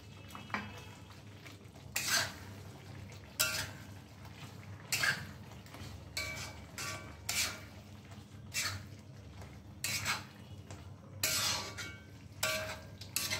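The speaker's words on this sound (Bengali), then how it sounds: "এবার আমি ভেজে রাখা পনিরগুলো এর মধ্যে দিয়ে দিচ্ছি।" Fried paneer is stirred into cooked masala in a kadai, with repeated metal spoon scrapes and clanks against the pan at irregular intervals over a low background hum and a soft sizzle.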